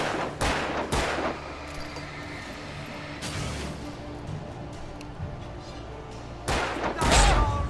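Gunfire cracks out in Alan Wake Remastered, a pair of sharp shots, then another burst a few seconds later and a final loud shot, over a steady rumbling game background.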